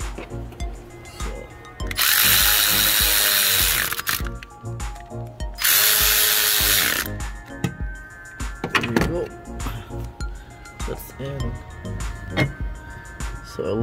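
A power tool drives bolts while a water pump is installed on a 2011 GMC Terrain, two loud, sustained close bursts of whirring separated by a pause, followed by clanks and small mechanical handling sounds in the garage.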